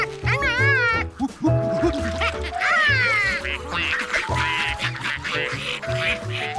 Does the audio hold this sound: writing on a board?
no